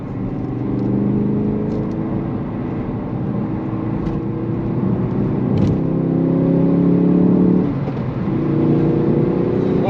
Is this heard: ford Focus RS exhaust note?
yes